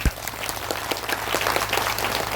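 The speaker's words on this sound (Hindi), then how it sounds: "आनंद जी के लिए एक बार सभी लोग तालियां बजाएं।" An audience claps for Anand ji at a spiritual gathering. The applause is steady and fairly close, with a low hum running underneath and no talking.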